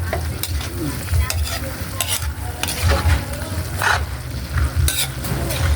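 Pancit noodles frying in a pan and being stirred, with a continuous loud sizzle and repeated scraping and tossing strokes close by, no voices.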